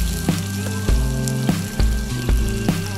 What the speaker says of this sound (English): We're gonna add a tidbit of olive oil. We're gonna throw half of a large white onion in.